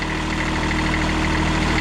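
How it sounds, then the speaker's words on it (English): A diesel lawn tractor engine idles close by, a steady, even low rumble with a constant mechanical hum and vibration throughout, with no voices over it. "weren't all that many companies that offered a diesel lawn tractor like this"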